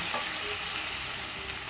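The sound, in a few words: stirring bitter gourd curry mixture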